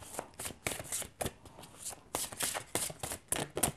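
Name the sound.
tarot cards being handled and dealt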